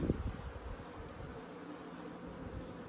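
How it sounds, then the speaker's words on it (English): Honeybees fly around an opened hive in August, a faint steady buzzing hum from many insects with a brief rustle or knock at the start and no talking. "We got bees flying now, boys and girls."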